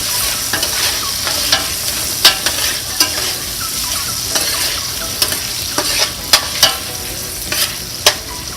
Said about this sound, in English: So I went ahead and add in my shrimp back again